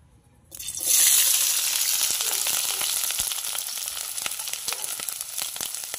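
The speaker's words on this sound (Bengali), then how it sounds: "তেলটা গরম হয়ে গেছে, কাঁচা লঙ্কা কুচি আর পেঁয়াজ কুচিটা দিয়ে দেবো তেলের ওপরে।" Chopped green chillies and onion hit hot oil in a wok with a sudden loud sizzle after a brief quiet start, settling into a steady, close frying hiss with small crackles.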